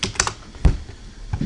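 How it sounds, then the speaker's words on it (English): A few quick keystrokes tap on a computer keyboard, close and crisp, as a short stock ticker is typed with brief pauses between presses. "So I type Skies, right?"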